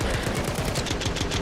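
Rapid automatic gunfire in a Counter-Strike match at IEM Dallas 2025, a loud continuous rattle of evenly spaced shots filling the whole moment with no voices.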